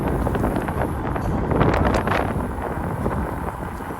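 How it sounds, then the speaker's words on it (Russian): Steady wind buffets the microphone with a loud, rough rushing noise that swells and eases slightly throughout. "ветер опять сегодня."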